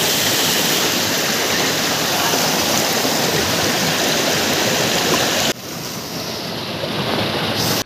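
Loud, continuous rush of a waterfall heard up close, a dense wash of falling water that dips slightly in level partway through but never stops.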